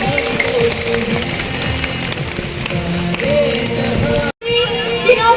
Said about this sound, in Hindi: अपनी भरपूर तालियों में इनकी हौसला अफजाई कीजिए।